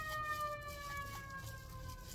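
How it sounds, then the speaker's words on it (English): A fire truck siren passes at a distance, heard as a faint, sustained wailing tone that drifts slowly in pitch over a low background hum. "That's not actually a Shy Ambulance. That's a, that's a full-on fire truck."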